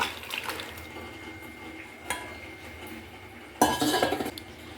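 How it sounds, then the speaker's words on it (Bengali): Mutton gravy and potatoes are poured into a cooking pot, heard as quiet clinks and scrapes of a utensil against metal, ending in a louder burst of liquid and clatter near the end. "এবার আমি ঝোল আর আলু আমি ঢেলে দিচ্ছি।"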